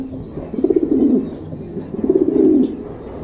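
An aged racing pigeon coos close by in two soft, rolling bursts, each lasting about half a second, with a short pause between them and no other sound.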